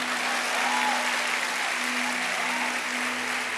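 Church congregation applauding, a dense, sustained wash of clapping from many hands that holds steady throughout with no speech on top.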